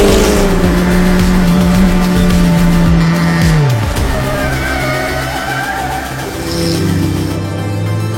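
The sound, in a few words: race car driving on track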